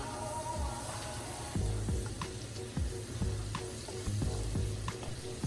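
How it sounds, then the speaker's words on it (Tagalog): Freshly ground peppercorn sautés in a hot pan for beef lengua, giving a steady close sizzle with regular scraping stirs and soft clinks, no talk. "Isutay lang natin to hanggang sa lumabas ang amoy ng aroma ng peppercorn"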